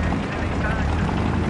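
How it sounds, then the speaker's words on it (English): Helicopter flying overhead in Battlefield 3, a dense, continuous rotor roar filling a short burst, loud and close, with a player talking over it. "Chopper over there at B."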